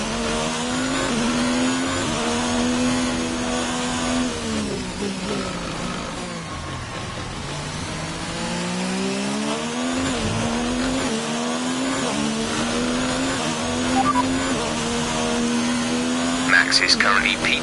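Simulated F1 race car engine from the F1 2019 video game, revving steadily with rising and falling pitch through upshifts and downshifts, loud and continuous, with a radio voice talking over it.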